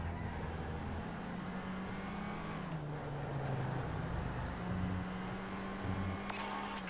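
A car in GTA 5 drives along with a steady loud engine drone and road noise, pitch rising and falling with gear changes, alone without speech.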